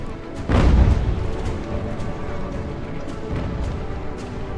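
Cannon fire in Ultimate General: American Revolution, one loud deep boom near the start followed by rumbling battle noise and fainter distant shots.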